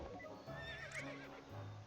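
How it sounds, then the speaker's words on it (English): A horse in a video game whinnies over clip-clopping hooves, the neigh rising briefly in the middle against a dense, continuous game soundtrack, quiet overall. "Do not ride this horse."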